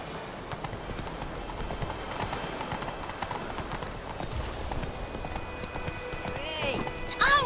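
Roach, the horse in the video game Witcher 3, gallops with steady, rhythmic hoofbeats that run throughout over a busy game soundscape, with a sharper burst near the end.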